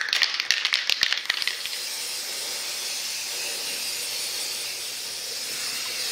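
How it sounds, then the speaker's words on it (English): A steady hiss of an apple red gloss spray paint can runs for several seconds after a few light rattles and clicks at the start. "Went out and I bought some spray paint."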